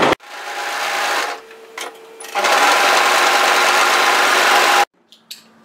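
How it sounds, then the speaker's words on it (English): An overlocker runs along the top edge of a sewn top in two loud, close bursts of rapid whirring stitching, separated by a short pause and followed by near silence with a few small clicks. "I'm overlocking on the right side."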